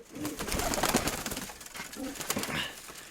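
Pigeons coo in low, throaty phrases that repeat a few times, fairly close, over a dense background of outdoor noise and rustling, with no one talking.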